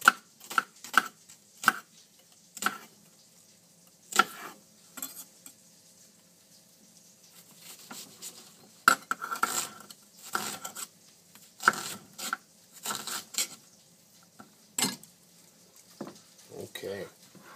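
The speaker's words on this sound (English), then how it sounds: "Oh, can't forget our onion. Gotta chop that." Half an onion chopped with a knife on a cutting board: close, sharp chops in irregular bursts with short pauses between, alone in a quiet kitchen.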